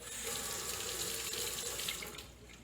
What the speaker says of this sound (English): I'm just going to wash my hands quickly because that was some eggs